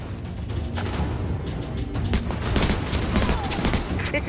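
Rapid bursts of automatic gunfire in the shooter game Tom Clancy's The Division during a mission at the Hudson refugee camp, loud and dense with overlapping shots and impacts.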